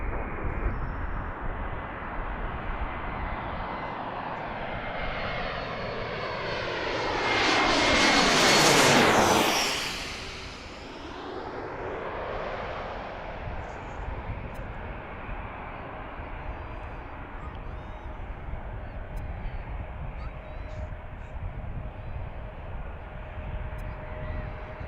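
An American Airlines jet departs runway 19 at DCA, its engine roar swelling as it passes near and loud, then fading into a long distant rumble.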